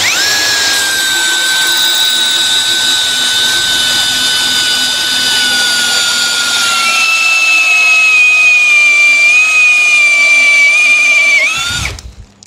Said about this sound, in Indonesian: ini mata bor saya yang tumpul nih